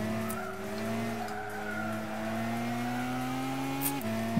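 A Lancia Delta HF Integrale in Gran Turismo 6 slides with a steady tire squeal layered over its droning engine note, sustained and close, the pitch dipping briefly near the end.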